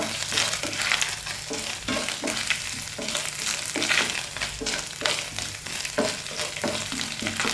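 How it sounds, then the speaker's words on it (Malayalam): Chopped coconut bits crackle and hiss in hot oil in a pan, cooked for soft unniyappam, while a spatula stirs with scattered scrapes and taps, heard up close with no voices. "ഇതിലേക്ക് ഒരു കുറച്ച് തേങ്ങാക്കൊത്തുണ്ട്, ഒന്ന് വറുത്തെടുക്കണം."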